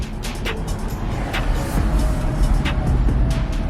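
A BMW slowing down on its own under assisted driving, with a steady rumble of road and engine noise inside the cabin, light clicks and faint ticks over it, and no talking.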